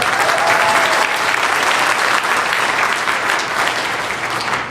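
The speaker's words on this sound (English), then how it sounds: "you should clap on that." An audience at a coaching event breaks into loud, sustained applause, steady clapping from a crowd filling the room throughout.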